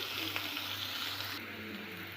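Four medium chopped onions fry in a pan in a steady, close sizzle that carries on unbroken throughout, with no talking.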